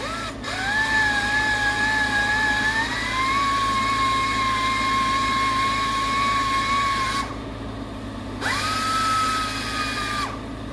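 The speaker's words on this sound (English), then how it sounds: "He's drilling down through the timber for the put the hook bolt in, or J bolt" A power drill boring down through a railroad bridge timber for a hook bolt, a loud steady whine that rises in pitch, cuts out briefly, then starts again, close and with no talk.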